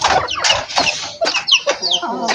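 A hen clucks loudly and close in a farmyard, giving a rapid run of squawky, rising calls in short bursts, with no speech over them.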